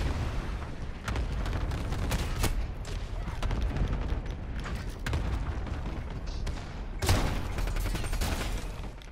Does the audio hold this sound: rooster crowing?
no